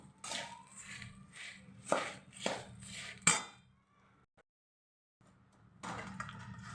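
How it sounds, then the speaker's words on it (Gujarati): Dry ingredients for katlu, grated coconut, dry fruit and edible gum, stirred together with a spoon in a metal pan, giving several sharp clinks and scrapes at a steady pace, then a brief silence and renewed scraping. "હવે ટોપરાનું ખમણ, ડ્રાય ફ્રૂટ ને ગુંદ નાખીને સરખું મિક્સ કરી દેશું બધું।"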